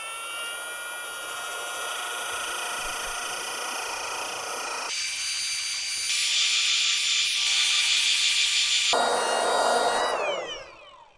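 Abrasive drum grinding stainless steel, a loud close whine and scraping hiss that shifts pitch and intensity as contact changes, then spins down at the end.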